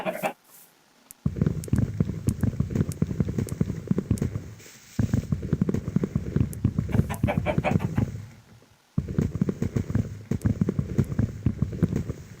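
Chicken clucking in a zombie survival video game, a repeated rhythmic cackle in three bursts separated by short pauses, fairly close and clear with no talk over it.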